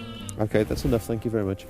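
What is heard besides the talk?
sheep bleating in the background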